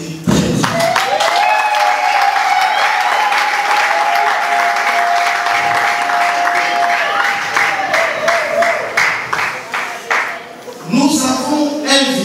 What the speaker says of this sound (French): Madame Tina Lessi, que je vous prie d'applaudir très fort